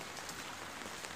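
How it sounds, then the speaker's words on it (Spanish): Soft, steady patter of light rain falling outdoors, a quiet even hiss with no voices. "Hasta allá afuera está lloviendo más despacito."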